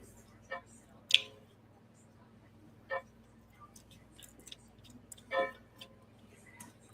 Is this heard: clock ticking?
yes